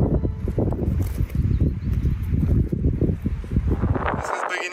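Rising wind on a Dolomites mountain trail as clouds gather roars and gusts steadily against the microphone in a close, dense rumble that fades near the end.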